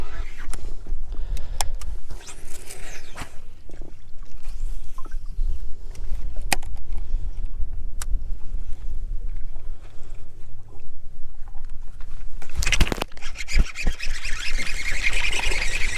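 Ranger bass boat moving on the water, a steady low rumble with wind and water noise, birds calling at times, and a few sharp knocks.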